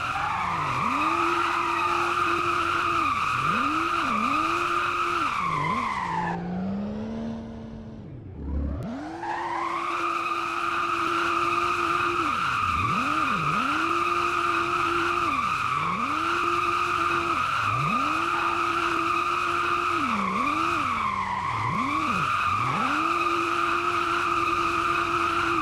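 A BMW M240i drifts in a Roblox driving game, its tires squealing in long repeated wails over a steady high engine drone, with a brief dip in revs midway before the skidding resumes.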